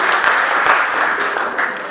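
Audience applause at a Hindi comic poetry gathering, a loud, close burst of many hands clapping that holds steady over two seconds and eases slightly at the end.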